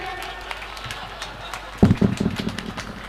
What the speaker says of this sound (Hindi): चाचा बिल्कुल ताली बजा रहे हैं